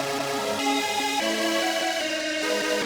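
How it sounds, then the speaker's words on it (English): Hip-hop beat processed with Looperator doubling effects, delay echoes and a tape-stop slowdown, playing continuously with dense sustained tones and steady loudness, no voices. "I have a little delay here, and then a tape stop delay right here."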